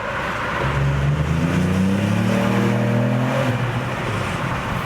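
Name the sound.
Ford Puma ST driving through a tunnel, window down, second gear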